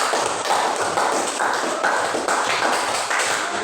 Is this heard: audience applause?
yes